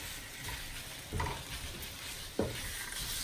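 A pan of sautéed green beans with beef being stirred, with a steady sizzle of frying and a couple of brief scraping knocks from the spoon against the pan.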